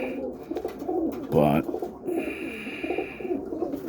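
Boston ripping roller pigeons in a loft on a Saturday morning, soft repeated coos close by, with someone briefly speaking over them.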